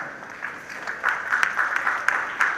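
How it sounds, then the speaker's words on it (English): Audience applause at a school book launch event, steady crowd clapping with a few sharper individual claps standing out, moderately loud and continuous. "Thunderous round of applause for the school choir."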